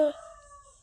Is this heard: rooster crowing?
yes